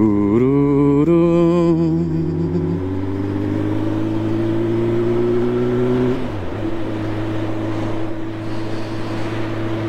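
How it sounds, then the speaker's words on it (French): A car drives past on a mountain road over a motorcycle engine's steady drone, with a rising then falling pitch and a loudness dip around the sixth second, no talk. "Une voiture. Ça faisait longtemps qu'on n'en avait pas croisé."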